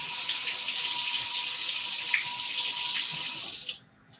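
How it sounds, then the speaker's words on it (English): Paintbrush rinsed under a steady stream of running tap water in a sink, a close, continuous splashing hiss that cuts off abruptly near the end. "I have to get the paintbrush all washed off"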